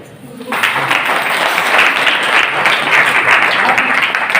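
A church congregation bursts into loud clapping after a brief quiet start, a full, sustained roar of many hands close by, with faint voices mixed underneath.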